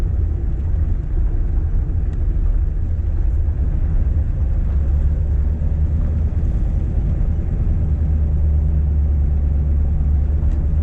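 A 1939 Ford Coupe drives along with its engine running, a steady, loud, low rumble droning continuously from the cabin with no break in tone.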